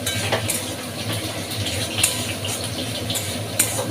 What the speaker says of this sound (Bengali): দিয়ে এটা ভালোভাবে নাড়াচাড়া দিয়ে